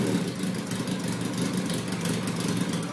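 A motorcycle engine running at a low, steady rumble, close by and unbroken for the whole stretch, with no one talking over it.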